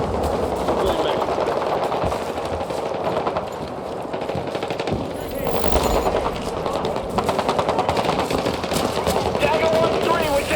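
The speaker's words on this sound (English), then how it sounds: "we're taking heavy fire" Heavy sustained automatic gunfire in the video game Battlefield 6, dense rattling bursts continuing throughout amid battle noise, with voices talking over it.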